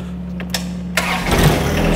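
A John Deere 120R tractor engine cranks with a few short starter bursts, then catches and settles into a steady, loud running rumble close by.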